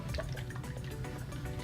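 Pasta cooking water pours out of a pot, a continuous splashing, gurgling stream with small drips, fairly close and steady throughout, no talking.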